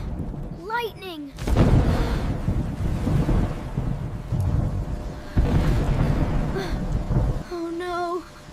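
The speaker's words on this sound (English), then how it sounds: "Oh no! Thunder is so loud!" Loud thunder breaks into a long, deep rumble with windy roaring that swells and rolls for several seconds. A short vocal sound comes just before it and again as it fades.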